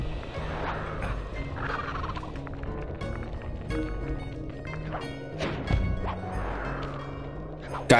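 A bird in a video game makes repeated gobbling, squawking calls over busy game noise with thumps and crashes, moderately loud throughout.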